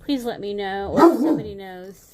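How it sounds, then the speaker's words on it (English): A dog barks and yips several times in quick succession, loud and close, while a person talks over it. "Gosh, I apologize for the barking."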